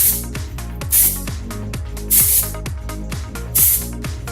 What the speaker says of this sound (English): dry shampoo spray.